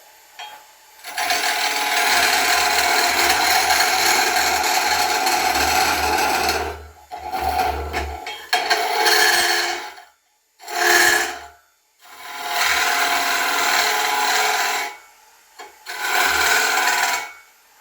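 A wooden tenon is trimmed by a couple of millimetres, giving loud, rasping strokes in several bursts of a few seconds each, separated by short pauses.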